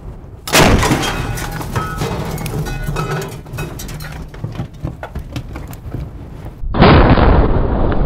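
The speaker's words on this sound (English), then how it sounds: "now we're going to spend about 2 milliseconds blowing it up with this massive gun" The 76mm gun of a Hellcat tank destroyer fires at a hut, a loud close blast followed by crackling debris and rumble, then a second burst of heavy roaring noise.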